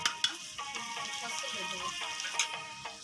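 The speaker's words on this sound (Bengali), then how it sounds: "মাংসগুলো মাংসের সাথে নেড়ে চেড়ে মিশিয়ে নিতে হবে।" Chicken meat stirred and fried in a pan with spices for a chicken curry to go with chitoi pitha, a steady sizzle broken by scraping stirs and occasional utensil clinks, heard close and moderately loud.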